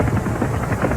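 Military helicopters fly overhead carrying a captive to a desert base, a loud, steady rotor thump and engine drone filling the moment without speech.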